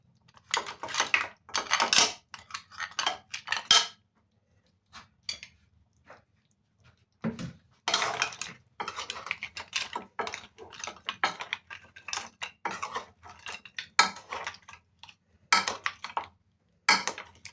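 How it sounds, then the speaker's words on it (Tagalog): Metal utensil stirring mussels through butter-garlic mixed seafood in a pan, with irregular bursts of clinking and scraping separated by short pauses, close and fairly loud. "Ihalo na rin natin yung ating tahong."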